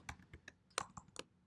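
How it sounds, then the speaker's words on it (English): Quiet keystrokes on a computer keyboard while coding, a series of irregular clicks with short pauses between them, faint and close, with no talking. "Whoops, I'm not typing so well today."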